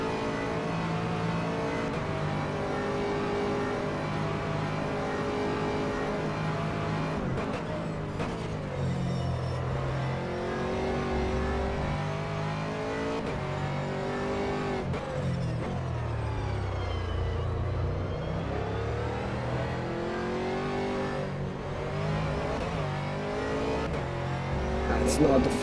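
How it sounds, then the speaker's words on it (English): GT3 race cars at Portimao in a racing video game, engines revving and rising in pitch as they pass one after another, continuous and fairly loud, with someone talking over them. "Everybody's passing me."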